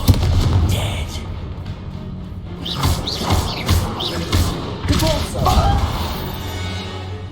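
Confringo fire-spell blasts in Hogwarts Legacy combat: several sharp, loud bursts and crashing impacts scattered through a busy battle, with voices speaking between them.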